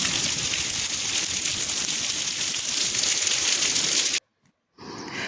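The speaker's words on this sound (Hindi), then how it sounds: "यहाँ देखो आप कितनी ज़ोरों की बारिश हो रही है, कितने ज़्यादा ओले गिर रहे हैं" Heavy rain mixed with hail pours down, a dense loud hiss of drumming on surfaces that cuts off abruptly near the end, then resumes more softly.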